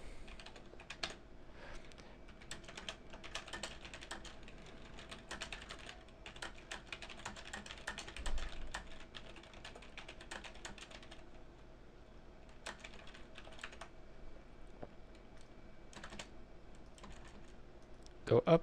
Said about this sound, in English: then just start typing random text